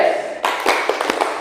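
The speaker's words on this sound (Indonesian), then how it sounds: "Tepuk tangan 3, 2, 1." Classroom group clapping in rhythm: a few sharp, separated hand claps from students after a moment of quieter room noise, spaced irregularly over a second.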